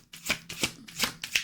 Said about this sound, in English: I have to side shuffle because these are really big cards.